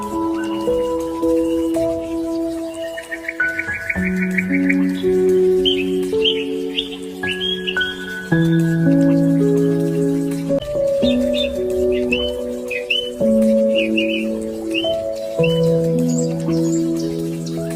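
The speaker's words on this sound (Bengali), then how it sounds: "শুনলেন তো কি সুন্দর পাখির ডাক, কিচিরমিচির" Birds chirping and trilling in the afternoon at Gopalganj railway station, bright twittering calls scattered over a louder, sustained stepped melody of steady tones.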